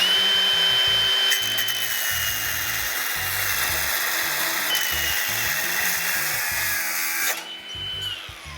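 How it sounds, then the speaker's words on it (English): A cutoff wheel grinds through a metal no-drill brake arm, a loud sustained high whine with gritty abrasive rasp that holds steady for several seconds and then drops off near the end. "we're going to show you how easy it is to cut this with a cutoff wheel"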